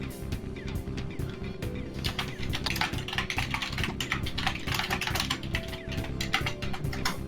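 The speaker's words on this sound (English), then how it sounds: "Apologies for my keyboard noises." Fast computer keyboard typing with dense, irregular key clicks, close and steady throughout, over a low background hum with no speech.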